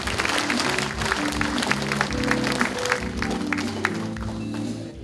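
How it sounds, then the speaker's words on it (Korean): Audience applause at a Korean civic forum on military–civilian coexistence in Gunwi County, a steady, dense clapping wash filling the whole stretch, loud and continuous, with no clear voices on top. "따뜻한 박수 한번 부탁드리겠습니다"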